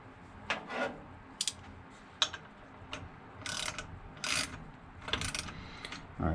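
A wrench tightens the fan nut on an Echo PB-250LN leaf blower, giving small close clicks, scrapes and ratcheting taps in irregular bursts, quiet with no talk.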